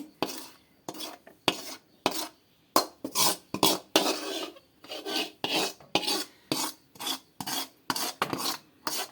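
A metal spatula scrapes fried fish from a pan into a bowl in a home kitchen, with repeated rhythmic rasping strokes, close and clear, with no talk.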